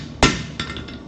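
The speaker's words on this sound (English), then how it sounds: "I'm constantly moving where I hit with my hammer" A blacksmith's hammer strikes metal at a forge: one sharp, loud, ringing blow, then a few lighter taps that follow in a quick, uneven rhythm, close to the listener and with no talking.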